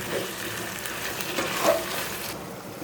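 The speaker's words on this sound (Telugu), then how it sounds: "ఇదిగోండి, చికెన్ ఉడుకుతుంది." Chicken pieces cooking in a pan with bay leaf for chicken dum biryani give off a steady, close sizzle with light bubbling, and no voices are heard.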